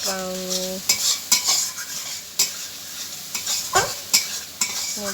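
Spices such as chilli, turmeric, cumin and mustard paste fry in a pan for a fish curry, a soft steady sizzle punctuated by repeated scraping strokes of a spatula stirring, with a brief tonal hum at the start.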